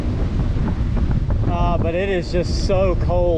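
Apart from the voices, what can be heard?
wind gust blowing into the microphone while cycling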